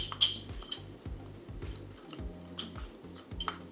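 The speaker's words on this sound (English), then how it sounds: "Stir that all up." A utensil stirs a thick oil paste in a bowl, giving soft squelching, smearing sounds with occasional light clinks against the bowl, close and quiet.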